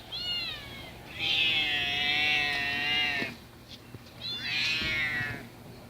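A stray cat meows loudly and close by: a short call, then a long drawn-out meow, and after a pause another shorter one, with no talking.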